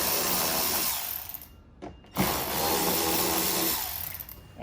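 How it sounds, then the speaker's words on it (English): A power tool, likely a ratchet or impact driver, loosens two 8mm underbody bolts on a BMW M2, whirring loudly and steadily with a brief pause partway through before resuming. "We're going to remove 2 of the bolts."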